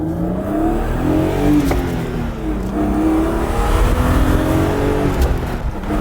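Lightweight BMW M3 engine revving loudly up close, a smooth, steady rising and falling drone with several throttle swells over a few seconds, no voices.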